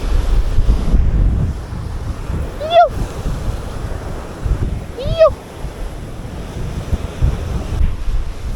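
Rough sea surges and wash against the rocks on a Jamaican shoreline under steady wind buffeting, a continuous roar with brief thin cries in the middle and no talk.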